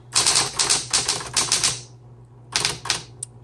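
Rapid keystrokes on a 1960s Smith Corona Coronet Electric 12 typewriter rattle close by in two quick bursts separated by a short pause.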